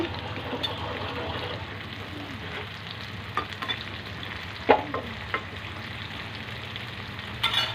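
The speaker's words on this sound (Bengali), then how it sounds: "দেখেন কীভাবে ভাজতেছি" Sliced bitter gourd fries in deep oil, a low steady sizzle with occasional scraping taps of a spatula, fairly quiet and without talk.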